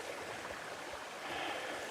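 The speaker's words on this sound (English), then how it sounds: "Freshwater stream." A freshwater stream runs through a rocky gorge, a steady, broad rushing and burbling of water heard close by and alone, without any voices.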